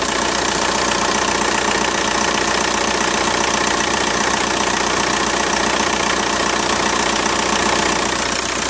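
A Mk4 Volkswagen TDI ALH diesel idling with a vacuum gauge mounted on the engine, a loud, steady, close clatter with an even knocking rhythm that never changes.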